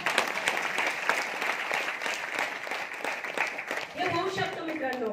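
Audience applause fills a hall at a motivational speech, dense and steady, with a voice starting to speak over the clapping near the end.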